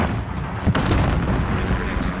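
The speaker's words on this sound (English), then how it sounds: "Grenade out." Grenade blast in a first-person shooter, a dense rumbling boom with a short sharp burst partway through, loud and close amid heavy game noise, with speech mixed in.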